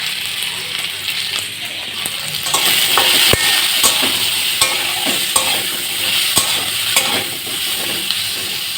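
Spices with turmeric and salt fry and get stirred in a pan for mutton with jackfruit, giving a steady broadband sizzle with sharp clinks and scrapes of the spoon against the metal, loud and close throughout.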